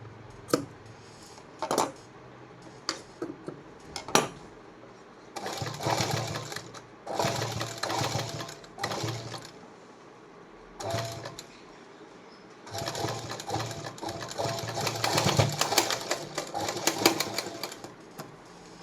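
Sewing machine running in bursts while stitching beaded lace onto the neckline of a blouse, with short runs of rapid needle clatter separated by pauses and small handling clicks.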